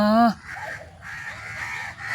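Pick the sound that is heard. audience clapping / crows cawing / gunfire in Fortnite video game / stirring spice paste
crows cawing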